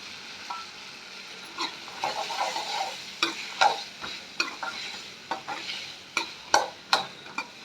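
Turkey berries tossed into a pan of softened tomatoes for sundakaai kozhambu, a soft frying sizzle under repeated sharp scrapes and clacks of a spatula stirring against the pan, close and intermittent.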